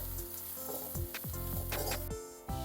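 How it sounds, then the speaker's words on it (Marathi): Cluster beans frying in a pan, a close steady sizzle broken by repeated scraping strokes of a stirring spoon, with one brief lull near the end before the sizzle returns, no talking. "आता गवार व्यवस्थित स्टर करून घ्या"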